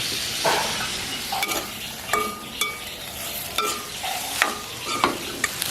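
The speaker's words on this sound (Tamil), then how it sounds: "இது நாங்கள் இப்போ வெந்திய நெருப்பில் வதக்கி கொண்டு இருக்கிறோம்." Ingredients for a crab dish are sautéed in a pan over fire, a constant sizzle broken by repeated scraping and clinking strokes of a spoon, close and steady.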